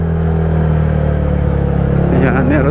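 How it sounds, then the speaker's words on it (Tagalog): A motor tricycle rolls past on a mountain road in Kalinga during an endurance challenge recon, its steady engine rumble loud and close throughout, with a voice heard briefly near the end. "Oh, may tricycle din dito."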